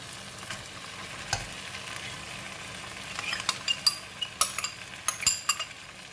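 Cooked rice going into a hot pan with egg for Tom Yum fried rice, a continuous close sizzle under a growing run of metal utensil scrapes and clinks as it is stirred.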